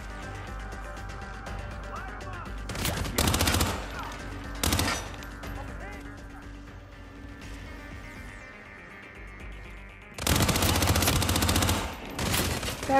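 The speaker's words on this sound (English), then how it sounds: "He can't hear any of these gunshots, I'm pretty sure." Gunfire in the video game Hitman 3: loud, rapid bursts of automatic shots come in three separate clusters, with quieter ambient game sound between them.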